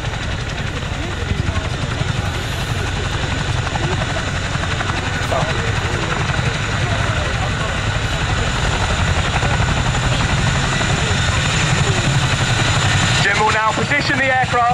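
A Chinook helicopter at the RAF Cosford Air Show lifts into a hover, its heavy rotor and engine roar steady and loud, with an announcer talking over it.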